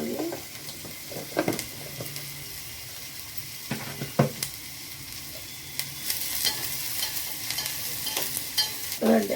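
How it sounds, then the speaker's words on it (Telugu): A sandwich filling fries in a little oil with turmeric added, giving a steady soft sizzle broken by scraping stirs and a few sharper utensil clicks against the pan, with no talking. "రసం పోయే వరకు వేయించుకోవాలి"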